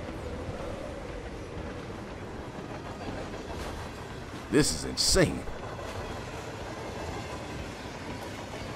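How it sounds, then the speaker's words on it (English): A train rolls along its tracks in the Hitman 3 video game, a steady low rumble heard up close throughout, with a person talking over it briefly near the middle. "I'm stuck on a train."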